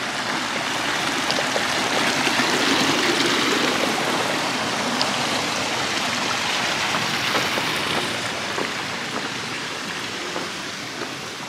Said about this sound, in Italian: il guado semplice semplice, quasi quasi avrei preferito un guado serio per essere giustificato a mettere i piedi in acqua